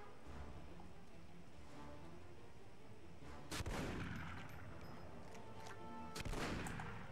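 Gunfire in The Punisher video game: two sharp, loud shots a few seconds apart rise over a low, steady in-game background rumble, with no talk.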